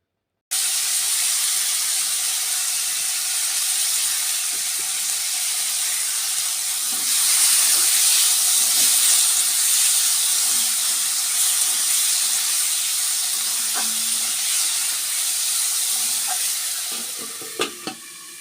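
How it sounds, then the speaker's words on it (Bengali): Potatoes and carrots coated with salt, turmeric and chilli powder frying in a pan, giving a continuous close hissing sizzle with occasional soft clinks and stirring sounds toward the end. "আলু গাজর তো একসঙ্গে লবণ হলুদ লঙ্কা গুঁড়ো সব মাখিয়ে ভেজে নিচ্ছি"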